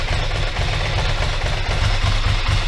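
A Ducati ST2 motorcycle engine idles slightly low, a steady close rumble with an even low throb running throughout, no voices over it.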